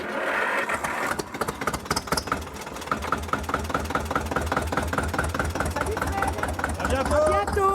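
A vintage Zetor 25 tractor, built 1946–1961 in Czechoslovakia, starts and settles into a steady chugging idle with a rapid, regular engine beat, loud and close. Voices talk over it near the end.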